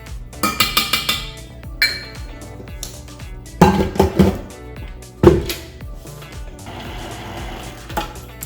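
Pumpkin pie spice is mixed into batter for a pumpkin spiced loaf in a bowl, heard as a mechanical mixer whirring in short bursts with clinks and clatters against the bowl between quiet pauses.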